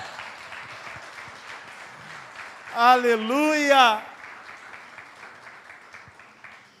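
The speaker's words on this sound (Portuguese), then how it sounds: "aplauda o Senhor Jesus" A church congregation applauding, continuous crowd clapping throughout, briefly overtaken by a loud shouted exclamation from a voice before the clapping continues and tapers off.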